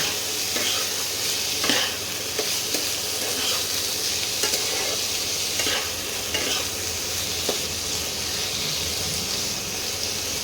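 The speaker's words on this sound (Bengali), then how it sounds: "আলু আর মূলোটাও ভাজা হয়ে গেছে, এর থেকে বেশি ভাজা হবে না" Potato and radish pieces fry with a little salt in a pan, giving a steady close sizzle broken by repeated scraping stirs throughout, with no talking.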